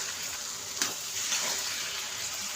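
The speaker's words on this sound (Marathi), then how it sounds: "हा शेंगदाण्याचं कूट पण ॲड ॲड केलं आहे तर छान याला मिक्स करून घेऊया" A mixed vegetable curry of brinjal and beans, with crushed peanut powder added, is stirred in a pan, giving a steady soft sizzle and hiss with a couple of light scraping strokes, close and even.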